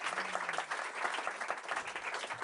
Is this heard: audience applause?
yes